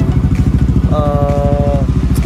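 A Yamaha NMAX Neo scooter engine idles with a deep, rapid, throaty putter from a loud R-One aftermarket racing exhaust, close by and steady throughout.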